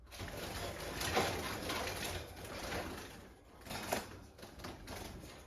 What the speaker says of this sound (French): Donc, je vais vous prendre un oiseau, bien sûr.